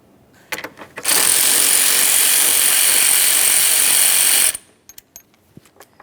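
A ratchet spins out the 13mm mounting bolt on a Jeep Patriot's coolant reservoir: a few clicks, then about three and a half seconds of loud, continuous rapid ratcheting, followed by scattered light clicks and taps.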